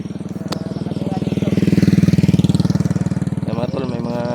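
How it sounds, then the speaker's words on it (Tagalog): Motorcycle engines on a rural road, a loud near engine chugging steadily as it passes, swelling in the middle and then fading, with a brief voice toward the end. "mga tol, may mga nagmotor."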